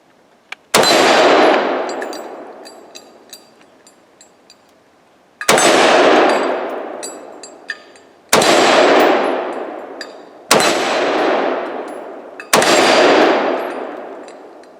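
Five loud, sharp gunshots from a Tavor X95 bullpup rifle ring out outdoors, spaced a few seconds apart with the first gap longer. Each crack is followed by a long, fading echo, with faint metallic clinks between shots.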